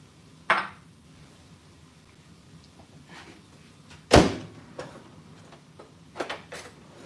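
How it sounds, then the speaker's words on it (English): A kitchen microwave door being opened during home cooking, a sharp loud latch clack followed by a few lighter knocks and clicks, with quiet pauses between them. "Just grab it from the microwave."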